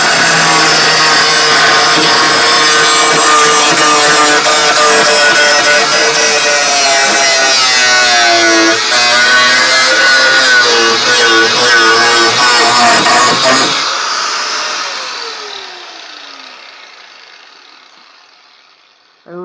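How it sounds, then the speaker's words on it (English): An angle grinder cuts through a metal piece, a loud, harsh, continuous high-pitched whine with wavering tones for about fourteen seconds before the disc winds down and fades out. "It's going to be kind of loud with the grinder,"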